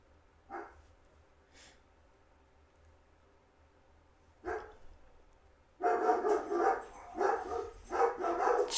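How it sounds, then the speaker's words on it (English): Dogs bark in the background, first as a few isolated barks spread apart, then as a loud cluster of repeated barking near the end. "Jeez, the dogs."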